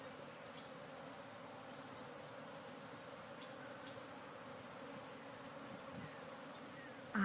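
Bees buzz steadily and close around a box as handfuls of honeycomb are pulled out, a continuous drone with no pauses and no voices.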